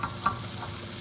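Pancetta and garlic frying in a pan: soft, steady sizzling, a constant crackling hiss with a couple of small pops, no talking.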